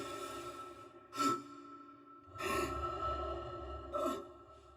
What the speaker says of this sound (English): when Isaac was sprinting or injured, you would hear additional grunts to emphasize his level of exertion